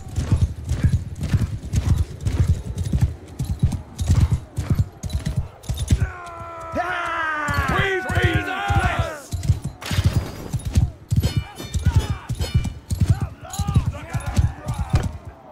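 Horse hooves galloping in Mount and Blade 2 Bannerlord, a steady rapid clip-clop running through the whole stretch, with a horse whinnying partway and game sounds layered over it.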